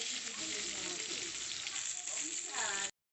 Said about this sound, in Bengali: মাছ ভাজা তেল ছিল, সেই তেলের মধ্যে বেগুনগুলোকে ভেজে নিচ্ছি।